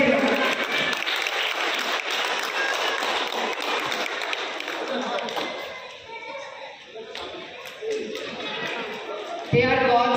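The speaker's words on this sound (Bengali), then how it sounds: "একবার হাততালি চাইবে প্লিজ এভরিওয়ান" An audience at a flat owners' meet applauds for the children with dense, steady clapping for several seconds that then thins out, voices mixed in underneath.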